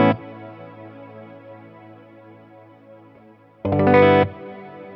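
Sustained, shimmering electric guitar tones through a Catalinbread Softfocus reverb pedal, drenched in a chorus-like effect, with a loud distorted swell bursting in near the end before settling back.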